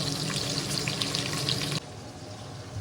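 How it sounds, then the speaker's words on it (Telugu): Onion, green chili, peas and mint fry in hot oil with a loud, close sizzle that suddenly drops to a quieter crackle partway through. "ఇది నూనెలు అన్నీ మంచిగా ఫ్రై అవుతున్నాయి."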